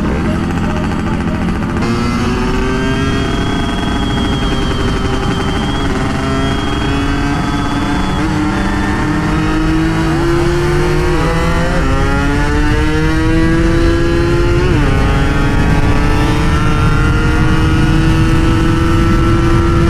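A 2002 Yamaha F1ZR motorcycle with a slipping clutch revs hard and loud up close, its engine pitch climbing and dropping in repeated sweeps over a steady roar.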